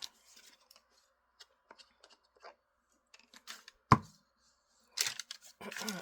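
Paper being trimmed with scissors for a craft journal tag, a series of faint close snips and rustles with quiet pauses between, a sharp clack midway and a brief burst of handling at the end.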